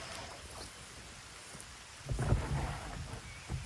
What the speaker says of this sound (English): now the rain's also falling